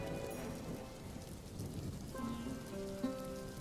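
Cartoon rain falls steadily on a village vegetable field, a dense continuous patter under soft background music, with no voices.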